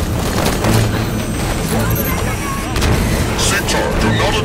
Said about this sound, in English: Taking fire from that turret!